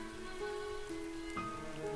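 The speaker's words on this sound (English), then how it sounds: "The sound of rain and I have a special connection" Steady rain falls in a continuous, even patter, with faint sustained tones running softly underneath.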